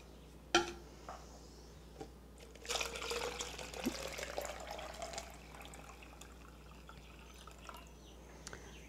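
Water being poured into a paper wasp trap mixture of fruit juice: a faint drip and click, then a few seconds of soft trickling pour that tapers off into quiet dripping, heard close and alone.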